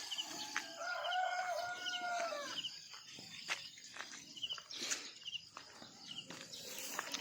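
A rooster crows once, nearby and clear, followed by scattered clucks and chicken calls over a background of chirping insects and a few clicks, with no voices.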